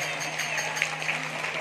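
An audience gathered on a public sports ground for a religious recitation event, clapping to welcome a visiting member of parliament: steady, moderately loud applause under a low hum, with some voices mixed in.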